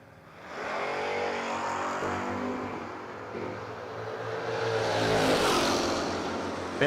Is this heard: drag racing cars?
yes